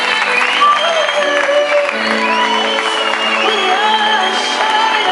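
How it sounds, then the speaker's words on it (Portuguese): A crowd at a 9th-grade school fashion show applauds and cheers for honoured guests, with whoops and shouts over a steady din and music-like tones running underneath throughout. "Uma grande salva de palmas para eles."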